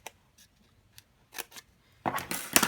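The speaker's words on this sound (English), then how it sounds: "we'll take our paper snips, and we're just going to cut up here" Paper snips slicing through a composition notebook's paper front cover, a few quiet separate snips and then a louder crunchy run of cuts at the end, close up with no talk.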